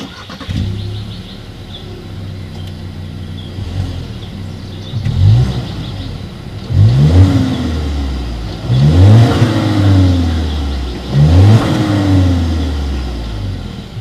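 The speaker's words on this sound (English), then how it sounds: "As always, here is that exhaust clip." A 2019 Volkswagen Tiguan engine revs repeatedly through its exhaust, several deep rising bursts spaced a couple of seconds apart over a steady idle rumble.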